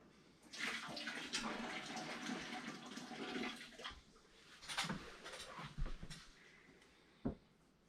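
Water pours into the bottom of a pressure canner, a close, gushing splash that rises and falls in surges, ending with a few thuds and clanks of the pot.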